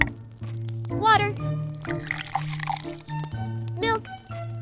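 Water poured into a small container while preparing a miniature rainbow cake, short trickling bursts separated by pauses, with a child-like voice talking between them.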